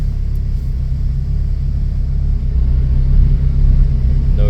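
A Honda car engine idling just after starting, a close, steady low rumble that swells slightly partway through.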